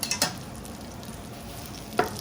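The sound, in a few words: sizzling on a sizzle platter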